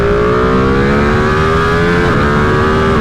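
A Ducati Panigale V2 sports bike cruises in top gear at motorway speed near 4,000 rpm, with a loud, steady engine drone that holds an even pitch and is smothered in heavy wind roar throughout, with no talk.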